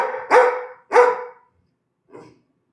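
A dog barks loudly and close by, two sharp barks in quick succession followed by a fainter, shorter third bark after a pause.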